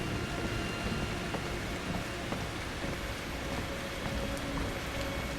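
Steady rain pours in the Outlast II video game, a dense, unbroken hiss of falling drops with scattered patters and faint low rumbles, with no talking.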